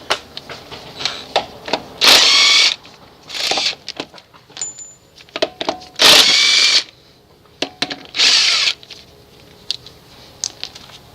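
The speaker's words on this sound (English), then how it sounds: "remove all the lug nuts, remove the wheel" Power tool bursts spinning lug nuts off a front wheel of a 1989 Chevy K1500 Silverado, four loud roughly half-second whirs spaced apart, with clinks and handling noises between them.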